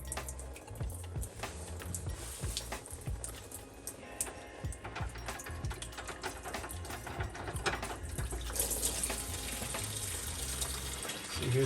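Yellowish, contaminated fuel drains from a Toyota Supra gas tank in a steady close trickle with scattered drips and small clicks, rising slightly toward the end.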